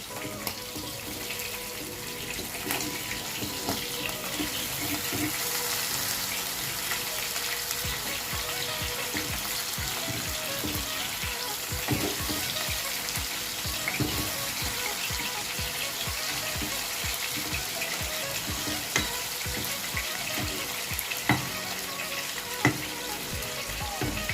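Amodi fish fry steadily in hot oil, giving a dense, continuous sizzle and crackle. Occasional scrapes and clicks come as a spatula turns the pieces, with no talking.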